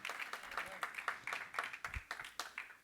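A church congregation claps rhythmically in praise, a steady run of sharp, evenly spaced claps lasting a few seconds at moderate loudness, with faint voices underneath.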